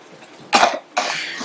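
A child coughs hard twice during assisted-cough physiotherapy, two close, forceful bursts separated by a short pause.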